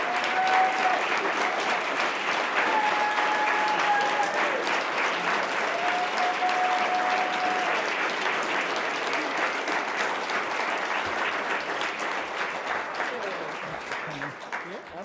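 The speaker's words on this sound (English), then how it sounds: "Please give her a round of applause." Audience applause welcoming Nevada senator Catherine Cortez Masto, a dense, steady wash of clapping from a large crowd that holds for about fifteen seconds before easing off, with faint voices mixed in.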